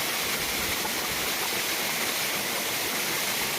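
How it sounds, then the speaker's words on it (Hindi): A waterfall rushes continuously in a broad, steady roar of falling water, heard close and loud on its own with no voices. "देखो झरना, प्योर झरना ऊपर में है, देखो कैसे जा रहा है।"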